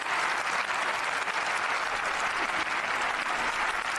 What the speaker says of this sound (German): Seht ihr, wie sie alle klatschen?